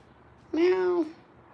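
A single drawn-out meow, close and fairly loud, lasting about half a second with a slight falling pitch, then quiet.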